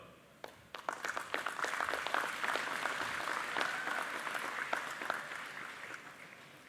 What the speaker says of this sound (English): I would like to encourage supporters to stand and clap as your graduate